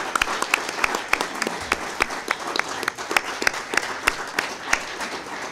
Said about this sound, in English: A round of applause for all our candidates.